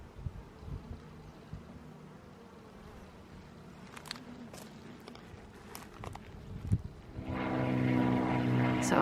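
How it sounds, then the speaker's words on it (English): Honey bees buzzing around a backyard beehive during a hive check, a faint hum that swells into a louder, steady drone near the end, with light footsteps and rustling earlier. "So I think they're pretty happy bees."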